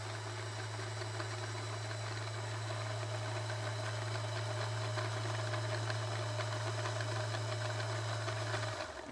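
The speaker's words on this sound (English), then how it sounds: "I'm going to continue winding my bobbin until it's about halfway to 3/4 full." A Janome sewing machine winds a bobbin with a steady, even motor whir and a low hum that holds unbroken for about nine seconds, then stops abruptly. The machine is close, with no voices.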